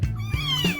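A kitten, a village or feral cat being held, gives a single clear meow that rises and falls over nearly a second, loud and close.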